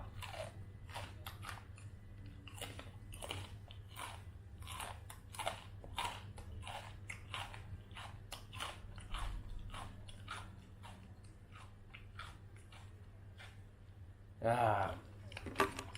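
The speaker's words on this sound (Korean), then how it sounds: "앉아서 베트남 과자를 먹고 있습니다." Crunchy Vietnamese snacks being bitten and chewed up close, a long run of short sharp crunches in an irregular rhythm, with a low steady hum underneath.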